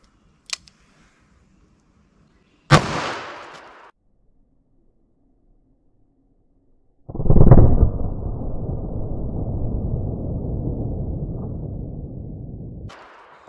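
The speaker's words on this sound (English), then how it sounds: "All right, 38 special FBI load in the 4-inch barrel." A .38 Special FBI load fired from a 4-inch barrel gives a sharp, loud single report whose ring trails off over about a second. A steady broadband rush takes over several seconds later and runs for about six seconds.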